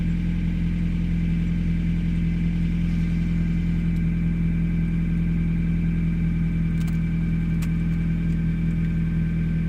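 A 2000 Mazda Miata with 122,000 miles idles just after a cold start, having sat for two or three days, giving a steady, close, even hum with no revving.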